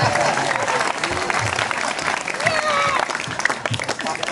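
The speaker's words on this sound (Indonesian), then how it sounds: "Tepuk tangan untuk anak kau." A crowd at a temple festival performance in Bali claps for a child performer, steady dense applause mixed with crowd noise and some voices, loud and continuous throughout.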